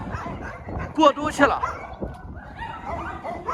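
Dogs in a mountain setting during a severe snowstorm give a few close yips and short barks, with a whimper, while a person talks over them.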